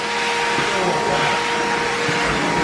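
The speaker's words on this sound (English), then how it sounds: "Vacuuming again?" A vacuum cleaner roars loudly and steadily at close range, a continuous whooshing drone throughout.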